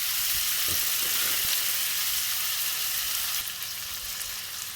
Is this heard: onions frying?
yes